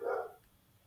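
A dog gives one short, close bark at the very start, and quiet follows it.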